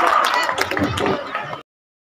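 Loud audience clapping and cheering greets a satire and humour poet being welcomed onstage at a mushaira, a dense burst of applause that cuts off abruptly after under two seconds.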